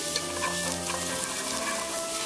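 Finely minced garlic sizzles steadily in a hot pan for Vietnamese thit kho while it is stirred with chopsticks, producing a dense, continuous close-up crackle with no talking.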